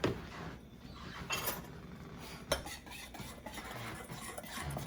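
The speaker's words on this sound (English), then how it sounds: "I'm going to stir that up." Soft scraping and light clinks of a utensil stirring food in a pot on a home kitchen stove, steady and fairly quiet with one sharper knock partway through, no voices.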